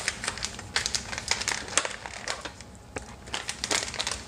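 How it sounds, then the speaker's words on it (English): Close crinkling and crackling of a plastic rice packet being pulled and torn open, with irregular rustling bursts throughout. "go ahead and open up the pack of rice"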